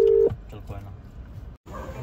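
A single steady phone tone rings out briefly at the start of an unanswered call, then gives way to background talk and movement.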